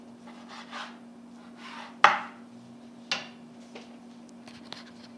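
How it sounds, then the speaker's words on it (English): Knife slicing thin strips of marinated beef for Korean barbecue on a board, with soft strokes and two sharper taps against the board, close up over a faint steady hum. "So you can see how thin I'm slicing them."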